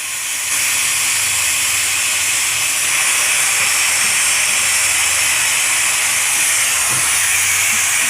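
A pressure cooker cooking duck meat on a lowered flame hisses steam continuously and loudly, a close, steady rushing sound with a slight swell after the first half second.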